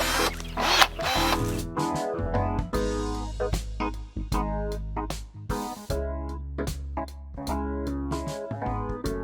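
Battery-powered DeWalt pruners snip through apricot, plum and cherry branches up close, with repeated sharp cutting clicks and short motor whirs in an irregular rhythm.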